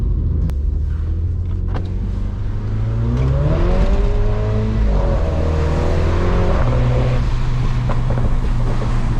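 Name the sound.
Mini JCW car accelerating with traction control off on snow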